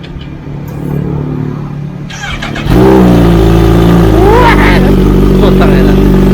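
A Kawasaki ZH2 motorcycle fitted with an Orion exhaust pipe barks into life and holds a loud, close idle with sharp revs, while people talk over it.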